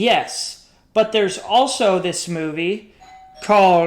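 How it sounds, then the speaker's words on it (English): A doorbell chimes briefly, a short electronic tone ringing out near the end, while a person talks over most of the moment. "someone's just rang my doorbell."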